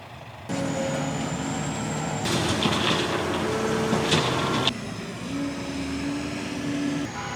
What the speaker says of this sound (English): And now there are some lorries to load for tomorrow morning.